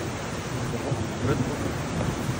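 A fast-rising river after heavy rain rushes as a steady, dense roar of water, loud and continuous throughout with no pauses.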